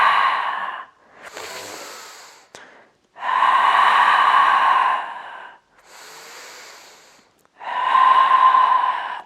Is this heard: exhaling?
yes